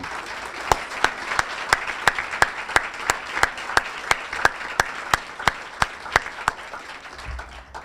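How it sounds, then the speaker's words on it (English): An audience at the State College of Florida Athletics Hall of Fame ceremony applauds the class of 2018, sustained clapping from many hands with a few sharp, evenly spaced loud claps standing out, tapering off near the end. "let's all join in a round of applause for our class of 2018."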